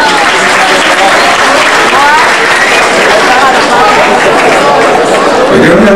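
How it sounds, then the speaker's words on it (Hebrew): An audience at a live event gives loud, steady applause, dense clapping that fills the room continuously with some crowd chatter mixed in. "מחיאות כפיים."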